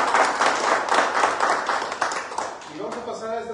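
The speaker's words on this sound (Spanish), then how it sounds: "Por favor, el aplauso" Audience applause at a course closing ceremony in Oaxaca, a dense, steady patter of many hands clapping for about three seconds, then fading as a voice begins speaking.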